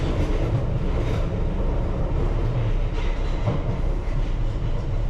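A London Underground Piccadilly Line train heading eastbound toward Oakwood depot near Hammersmith takes power, a loud, continuous rumble with rail clatter throughout.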